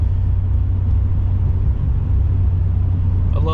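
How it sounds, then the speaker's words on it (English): A Chevrolet L5P Duramax diesel pickup with an Allison six-speed transmission cruises at highway speed, giving a loud, steady low rumble throughout with a brief faint squeak at the end. "I love the sound of these L5Ps."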